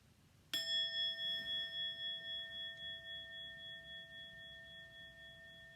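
A single bell is struck once and rings out with a clear, sustained tone that slowly fades over several seconds in a quiet space.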